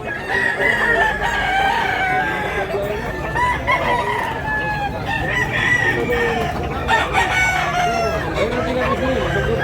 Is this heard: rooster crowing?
yes